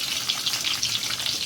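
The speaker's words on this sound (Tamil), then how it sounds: "இதை இந்த ஆயிலையே நம்ம எல்லா பக்கமும் ஃப்ரை ஆகிற மாதிரி இதை அப்படியே வறுக்கணும்" Stuffed bitter gourd frying in oil, a steady close sizzle and crackle of hot oil continuing evenly throughout with no talk.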